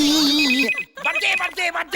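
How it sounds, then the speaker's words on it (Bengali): A phone ringtone plays loudly in a repeating pattern, with a short pause, while a voice speaks over it. "বাদে এই বেজেছে না, এটা আমার ফোন না।"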